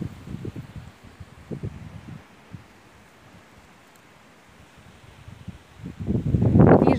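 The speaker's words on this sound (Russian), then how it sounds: "Посмотрите, какой ветер сильно бушует." Gusts of strong wind buffet the microphone in rumbling bursts, easing to a quieter lull before a heavy roaring gust at the end.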